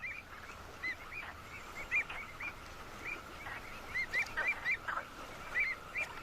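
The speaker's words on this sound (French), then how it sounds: "Des oiseaux vivent aussi dans cet écosystème très inhospitalier." Salt marsh birds call repeatedly in short honking, goose-like bursts, some overlapping, over a low steady background hiss, moderately near.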